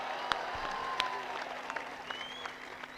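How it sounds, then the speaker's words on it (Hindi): Applause from a mushaira poetry audience in Lucknow, a steady patter of many hands with a few sharper claps standing out, fairly close and continuous. "ताली बजाना चाहता हूं"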